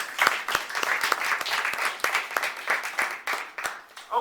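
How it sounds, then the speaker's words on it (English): A room full of people at a student panel of an annual college conference claps steadily for several seconds, a dense crackle of hands with little else underneath. "let's give a round of applause just to welcome our panel"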